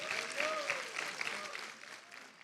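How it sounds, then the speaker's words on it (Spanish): A church congregation claps in praise during a Spanish-language service, a steady wash of applause with some tonal voices or cheers rising through it, fading slightly toward the end. "Un aplauso al Señor"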